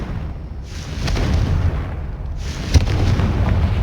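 Confringo blasting spell in Hogwarts Legacy erupting as two broad, rumbling blasts in quick succession, each a sustained roaring burst with a sharp crack partway through the second.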